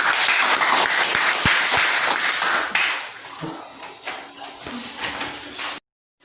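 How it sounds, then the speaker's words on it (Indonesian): A classroom of students claps loudly in a dense burst for a student group after a presentation, with the applause thinning and fading toward the end before the room cuts to silence. "kita beri tepuk tangan untuk kelompok Randy"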